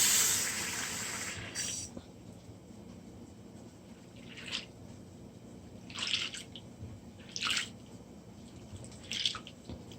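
Quinoa is rinsed under running water in a kitchen, with a steady soft trickle and splash broken by several brief bursts of sloshing and swishing as the grains are stirred and the water is poured off.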